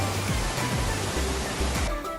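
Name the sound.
Sarang Walet waterfall on Mount Rinjani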